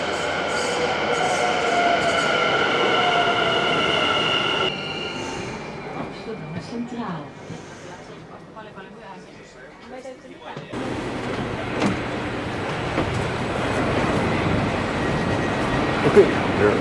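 An Amsterdam GVB metro train arriving at Amsterdam Central Station, a loud tonal electric motor whine that drops away, then quieter rumble and a rushing roar of the train in the station; speech is also present.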